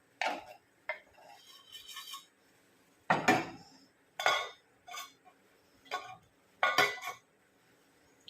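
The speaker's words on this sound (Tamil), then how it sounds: "கொஞ்சம் கலக்கி விடலாம்" Intermittent clinks and scrapes of a utensil stirring black kavuni rice porridge in a cooking pot, several short bursts separated by pauses, fairly close.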